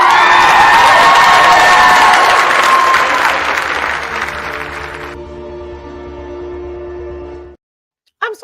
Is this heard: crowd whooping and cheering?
yes